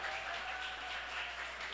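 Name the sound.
audience applauding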